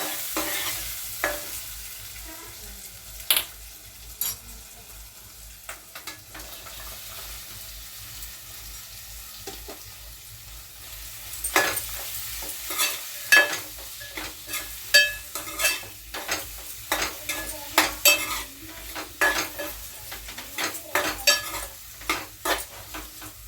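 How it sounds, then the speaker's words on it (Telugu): Capsicum stir-fried in a pan with onion, green chilli and turmeric, a soft steady sizzle broken by clattering spatula stirs that grow busier toward the end, no talking. "ఇప్పుడైతే క్యాప్సికమ్ వేసేస్తా."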